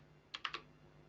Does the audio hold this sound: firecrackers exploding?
no